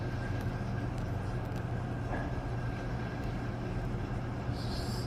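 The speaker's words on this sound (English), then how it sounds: "Another train coming. I'm hearing it in the background, in the distance." A low, steady rumble of a distant train in Brooklyn rolls along continuously, a broad muffled roar with no voices.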